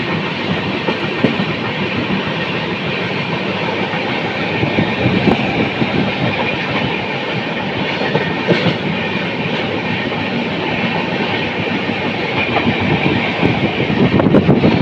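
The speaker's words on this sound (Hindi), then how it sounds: "पता नहीं कि भाई प्लेटफॉर्म नंबर 1 पर सारी ट्रेनें एकदम स्लो आ रही हैं।" Train noise at a railway station's platform 1 on the Thiruvananthapuram Central to Mumbai CSMT Express route: a steady, loud rail rumble with faint clickety-clack as trains come in slowly, no voices.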